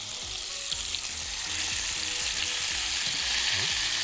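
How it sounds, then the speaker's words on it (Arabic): Shish tawook skewers of chicken fry in hot oil, giving a steady, loud hiss and crackle that holds throughout with no talking. "الزيت عندي سخن اهو. هنزل باسياخ الايه الشيش بتاعتي كده"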